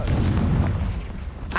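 The Confringo fire spell explodes in Hogwarts Legacy, a heavy booming blast with a rumbling low-end tail that fades over about a second before a short crackle at the end.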